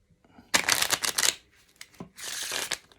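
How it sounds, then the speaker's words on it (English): A pack of playing cards is shuffled up close for a card trick, two crisp bursts of riffling, fluttering card noise separated by a brief pause. "Let's give them a little shuffle just to mix them up that little bit more."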